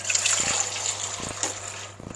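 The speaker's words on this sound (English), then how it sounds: "we'll get some water into there just to rinse it off" Water is poured from a tin into a pan of whole tinned tomatoes, a close, soft trickling gush with a faint hum and a few light clunks.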